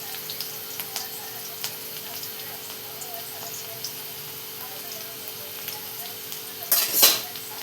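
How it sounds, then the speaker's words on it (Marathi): Chili and garlic fry in a pan with a soft, steady sizzle and light clatter, then a louder burst of hissing as tomato goes into the hot oil near the end. "बघा मिरची आणि लसूण आपला चांगला लाल झाला आपण टमाटा टाकून घेणार आहे"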